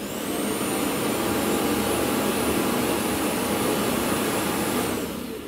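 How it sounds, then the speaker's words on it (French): A loud, steady vacuum roar runs for several seconds as a Conga 11090 Spin robot vacuum dock sucks out the dust, with a high whine on top, then cuts off abruptly. "Ce qu'on vient d'entendre, c'est la vidange de la poussière."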